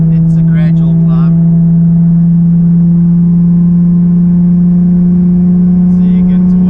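Inside a tuned Nissan 350Z pulling in sixth gear, the engine gives a loud, close, steady drone whose pitch holds nearly level, with brief talk from people in the car at the start and end.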